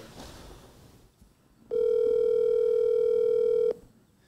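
A single steady electronic telephone tone rings for about two seconds while a call is placed, clear and fairly loud against a quiet room background.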